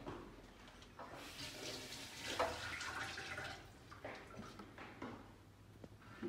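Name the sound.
washing vegetables under running tap water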